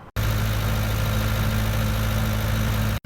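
A Ford tractor engine idles in a survival farming game, a steady, loud, low-pitched drone with a constant buzz that cuts in and out abruptly.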